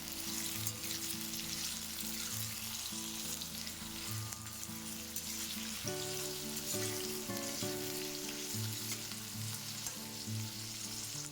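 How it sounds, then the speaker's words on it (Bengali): Onion, garlic, ginger, cashews and green chillies fry in hot oil with a steady, soft sizzle that lasts throughout, while a tonal background hum runs beneath it. "এবার কয়েক টুকরো রসুনের কোয়া, আদা, কাজু বাদাম আর কাঁচা লঙ্কা দিয়ে একটু ভেজে নেব।"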